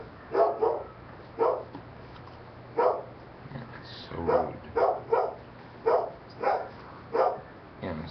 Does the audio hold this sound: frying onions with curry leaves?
no